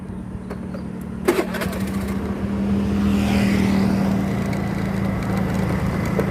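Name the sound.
motorcycle engine starting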